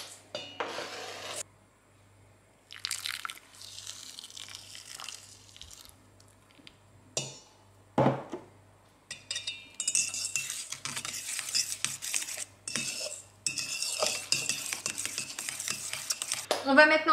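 Espresso poured over crumbs in a bowl and stirred in, giving scraping, clinking spoon strokes against the bowl with pauses between bursts, close and fairly quiet, growing busier and more continuous toward the end.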